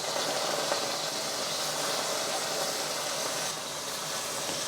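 Beef steak sears in hot avocado oil in a pan with a steady, dense, even sizzle that holds at the same level throughout, with no voices.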